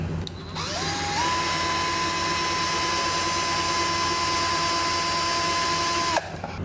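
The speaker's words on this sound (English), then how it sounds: "Let's continue the drilling." A loud, steady high-pitched whine of a power drill boring into an eSun Hard Tough resin 3D print runs continuously for several seconds, rising in pitch as it spins up and stopping abruptly.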